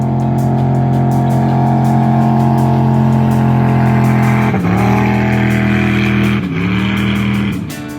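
A boat powered by a 5.3 V8 from a 2005 Silverado, converted to fuel injection, runs loud and close with a steady throaty drone, blipping its revs twice near the end.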